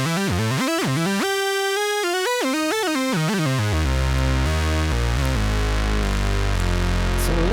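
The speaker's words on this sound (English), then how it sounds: "You have the typical Moog sound," A Moog Voyager analog synthesizer plays a sliding, gliding lead line with bright, rich tones, then shifts into denser chords with a strong bass, loud and continuous without any talking.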